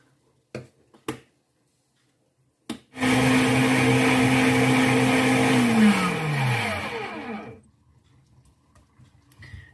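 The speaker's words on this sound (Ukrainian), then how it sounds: "ось так ми перемололи всі наші запечені овочі" An electric kitchen blender whirs loudly for about five seconds, grinding roasted eggplant and other baked vegetables for a smoky spread, and its pitch falls as the motor winds down. A few sharp clicks and knocks come before it starts.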